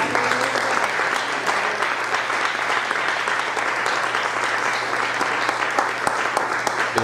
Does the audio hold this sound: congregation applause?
yes